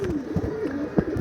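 Pigeons of a direct BG silver bloodline coo close by at a breeding loft, a few soft rolling calls with brief louder bursts over a low background.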